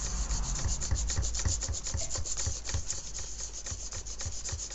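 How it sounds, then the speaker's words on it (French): A paper card is sanded by hand with steady, rhythmic scratchy rubbing strokes, close and fairly quiet, with no voices. "Donc vous prenez une carte, vous la poncez"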